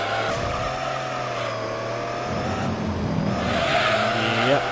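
Tires squealing on a race car in Gran Turismo 3 as oversteer sets in, with a steady engine drone underneath and a rising screech near the end, loud and sustained.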